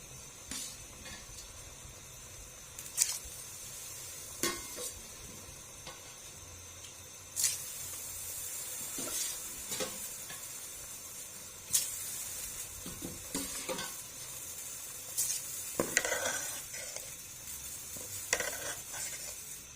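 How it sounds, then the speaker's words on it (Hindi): Soaked rice tumbles into a pot of mutton yakhni pulao and is stirred through, with scattered scraping and splashing spoon strokes over a low steady simmer, close and moderately loud, no talking. "अब चावल ऐड कर देंगे।"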